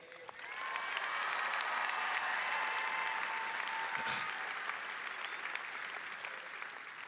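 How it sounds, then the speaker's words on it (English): A large crowd claps steadily for graduating seniors at a high school graduation ceremony, with the sound swelling quickly and holding sustained for several seconds before easing slightly. "get a round of applause for every senior who made it here"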